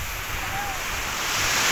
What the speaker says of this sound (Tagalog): Malakas po ang alon.